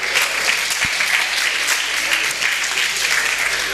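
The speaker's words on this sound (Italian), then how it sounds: "L'applauso a Fabio" A festival audience in Lauria applauds a 14-year-old boy being introduced on stage, with sustained, dense clapping from many hands that holds steady and loud.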